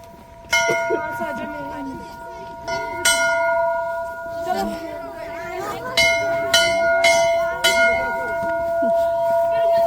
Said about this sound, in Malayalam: ബെല്ലൊക്കെ അടിച്ചു